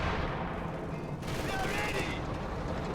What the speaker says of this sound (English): AT guns firing from the back.